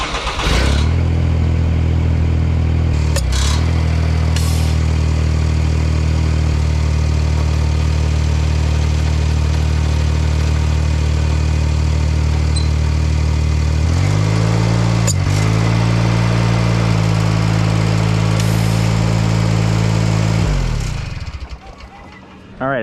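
A Ventrac 4520N compact tractor's engine runs for a PTO belt test, giving a loud, steady mechanical drone close by. Partway through the pitch shifts as the load changes, and the engine then cuts off near the end.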